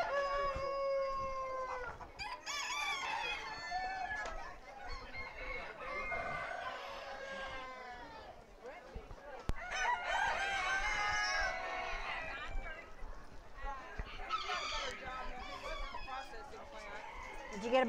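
Silkie chickens at a poultry show cluck and crow repeatedly, with a rooster's drawn-out calls rising above the flock, close by and lively, while people talk in between.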